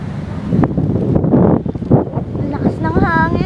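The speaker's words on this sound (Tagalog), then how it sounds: "Ang lakas ng hangin. Wind effect." Strong wind buffets the microphone outdoors in loud, rumbling low gusts that surge and ease over a few seconds, with voices talking nearby.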